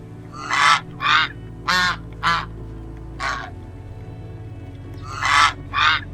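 A goose honks repeatedly nearby in a series of loud, separate calls with short pauses between them, over a low steady hum.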